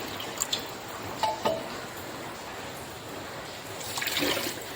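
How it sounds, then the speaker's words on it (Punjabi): Water poured from a bowl into a pan for sugar syrup, a soft steady trickle and splash with a few light clinks, rising slightly toward the end, close by. "ਹੁਣ ਡੇਢ ਕਵਲੀ ਹੀ ਆਪਾਂ ਪਾਣੀ ਦੀ ਪਾ ਦੇਣੀ ਆ"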